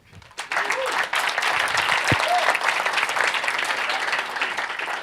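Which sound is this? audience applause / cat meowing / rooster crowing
audience applause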